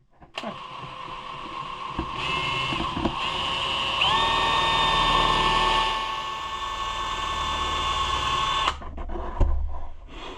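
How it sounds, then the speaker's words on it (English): A power drill whines steadily for several seconds while drilling into a Maytag appliance, its pitch rising as it spins up, then it cuts out with a clunk; no talking. "Let's see if we can gently drill into it."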